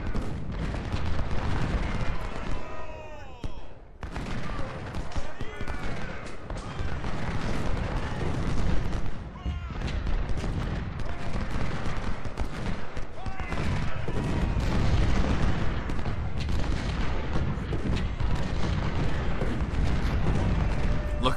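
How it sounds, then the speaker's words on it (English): Continuous artillery booms and massed rifle fire roll through a Civil War battle in the strategy game Ultimate General: Civil War, a dense, loud barrage of overlapping shots and blasts that carries on unbroken. "Look at all that gunfire coming down"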